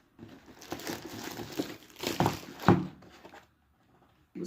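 Plastic bags crinkle and rustle as dates are packed into them, with a sharp crunch of handling near the middle, then a brief pause before more rustling.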